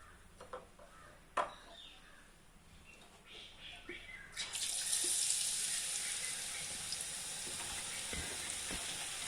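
Boondi batter for ladoo is dropped into hot oil and begins to fry: a few soft clinks and taps, then a bright, steady hiss of sizzling that sets in partway through and continues to the end.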